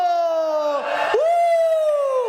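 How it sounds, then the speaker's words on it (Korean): A church congregation at a Korean Sunday praise service lets out a loud, sustained group shout, one long cheer that dips briefly in the middle and then carries on. "하나님을 향하여 함성으로."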